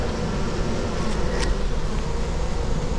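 Honey bees being removed from a bin buzz in a dense, continuous drone, loud and close, with a few individual bees whining past over the steady swarm hum.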